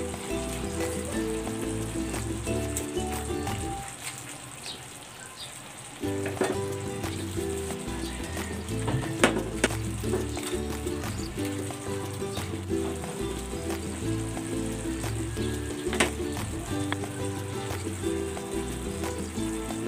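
Fish frying in a pan for kinamatisang isda gives a loud, steady crackling sizzle that briefly softens, then returns fuller and keeps going with scattered pops and a few utensil clinks.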